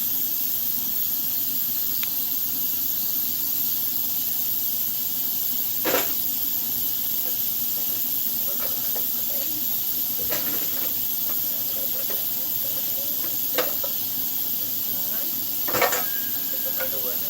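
Meat searing in a skillet-like pan: a constant loud sizzling hiss with a few occasional clicks and clanks, and faint talking underneath.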